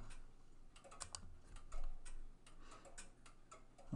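Light, quiet keystrokes on a computer keyboard as a company name is typed, coming as a few short bursts of taps with brief pauses between them.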